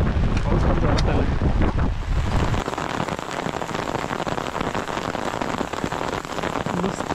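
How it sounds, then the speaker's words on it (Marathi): Heavy rain pours down during paddy planting in a Konkan village at Sangmeshwar, a loud dense roar of drops with gusty wind buffeting the microphone that eases slightly after the first couple of seconds. "पाऊस पण जोरात आला."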